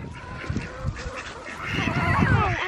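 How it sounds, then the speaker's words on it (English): Ducks kept in a coop in a backyard garden, quacking in short bursts close by, mixed with children and adults talking and moving around. "the ducks are in a coop"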